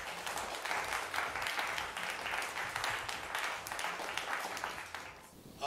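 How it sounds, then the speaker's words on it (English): Steady audience applause for the chief guest at a formal government-related event, a sustained wash of clapping that fades briefly before a voice begins at the end. "can we have a huge round of applause for our chief guest?"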